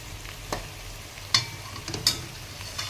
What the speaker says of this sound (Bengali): পেঁয়াজটাকে এবার ভাজা ভাজা করব।